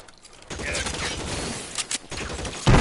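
Gunfire in the video game L.A. Noire, a rapid burst of shots over a steady background, with a couple of sharp cracks near the end and a voice briefly talking.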